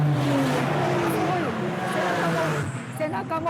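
Race cars driving past at a racing event, their engines roaring and revving loudly with rising and falling pitch as they pass, under voices talking.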